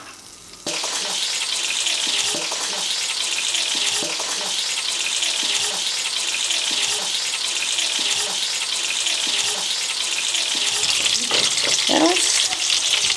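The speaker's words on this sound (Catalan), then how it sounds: "Doncs ara posem en aquesta paella la ceba." Chopped onion frying in a pan for a Catalan sofregit, a steady close sizzle that starts abruptly and continues with occasional stirring scrapes.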